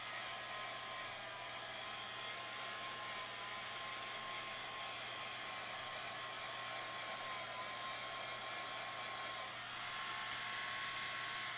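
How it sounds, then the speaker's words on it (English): A small handheld craft heat tool blows steadily on its lower heat setting, a continuous whirring fan hiss with a faint high whine, drying sublimation paint on a bottle opener blank; no talking. "here is my little heat tool. I'm just gonna plug it in"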